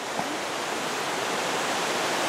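A steady, broadband rushing roar comes from Cataract Falls near Fairfax, California. The waterfall is loud and constant, with no voices.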